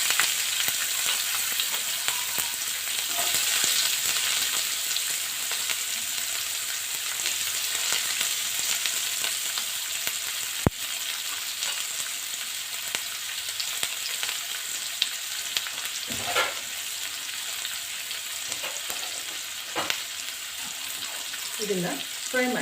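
Onions fry in oil with cumin and mustard seeds in a pan, giving a soft, steady sizzle with occasional stirring clinks and a sharp click, fairly quiet throughout.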